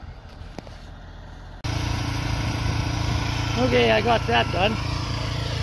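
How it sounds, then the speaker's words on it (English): A portable generator powering a welder starts abruptly and settles into a steady, close engine drone, with someone speaking briefly over it. "So what I'm gonna do is I'm gonna fire up my generator"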